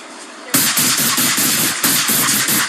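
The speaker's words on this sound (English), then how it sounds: "That spray of gunfire killing rookie officer Tara O'Sullivan." High-powered rifle fire captured on a police body camera during an ambush on officers, a sudden loud burst of rapid shots in two volleys, harsh and close.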